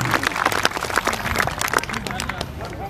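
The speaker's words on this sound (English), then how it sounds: "So give them a nice round of applause" Audience applause for a pipe band, steady dense clapping from a crowd throughout, fairly close and continuous, with some crowd murmur mixed in.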